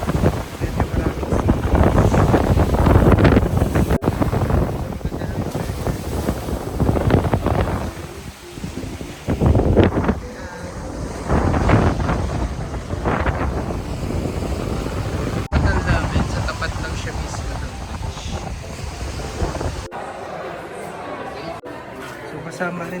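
Strong wind at Durres beach in Albania roars across the microphone in loud, continuous gusts that swell and ease, with someone talking underneath throughout.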